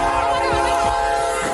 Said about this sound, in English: The suspect was in the vehicle that was hit by the train.